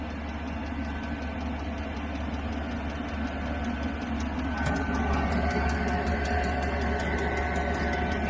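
A Chinese diesel parking heater runs at full power, giving off a steady low hum and whirring drone with faint rhythmic ticking, continuous and close, with no talking.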